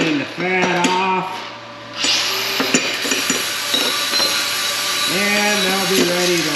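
Scraping and chipping scale off a metal part to clean it before welding, with harsh rasping scrapes and sharp knocks, close up, with a voice speaking intermittently under the work.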